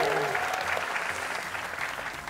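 Studio audience applause for a contestant on a televised talent show audition, steady and fairly soft throughout, with a brief voice at the start.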